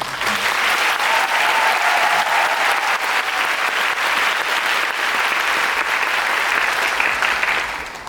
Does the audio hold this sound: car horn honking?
no